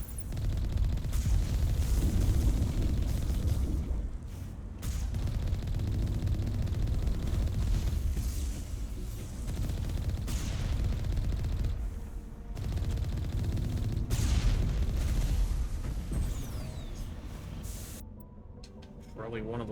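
Dense, loud gunfire and explosions from the PC game Mass Effect 1 Legendary Edition roar continuously, with a voice talking over the combat.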